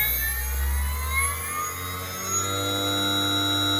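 An e-bike hub motor driven by a newly matched controller spins at full throttle, giving a steady whining hum with high tonal harmonics that holds level throughout, close and alone with no voices.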